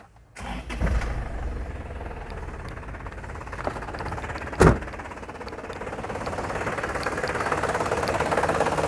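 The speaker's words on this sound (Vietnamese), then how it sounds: "Đây các bạn, cái máy nổ rồi nha." A 2007 Isuzu Hi-Lander pickup truck engine cranks and starts, then settles into a steady idle with a brief clunk midway, running smoothly and fairly close.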